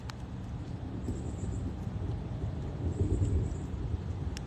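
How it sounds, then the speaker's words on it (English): Distant thunder rolls as a low, steady rumble under wind noise beside Webb Lake while fishing for bluegill, swelling a little toward the end. "Yeah, thunder's getting more numerous now."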